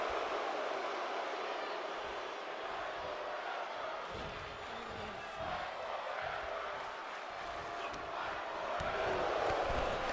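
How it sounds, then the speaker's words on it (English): An arena crowd in a WWE 2K wrestling game stands and chants, a dense, steady roar of many voices that swells and fades slightly, heard at a moderate distance throughout. "This crowd on their feet chanting, "Fight forever.""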